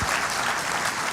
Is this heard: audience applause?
yes